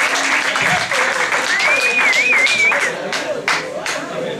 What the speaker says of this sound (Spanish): ¡Fuerte el aplauso para Pinky!